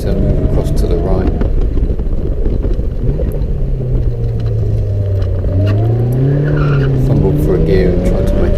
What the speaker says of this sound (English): Heavy on the brakes, a little squeal.